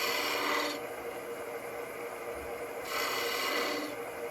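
A skew chisel paring a V groove into wood, giving close, dry rasping cuts in two longer strokes separated by quieter scraping, with no voices.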